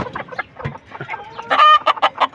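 Native farm chickens cluck in quick, close bursts, with one higher drawn-out call rising in the middle of the brief flurry.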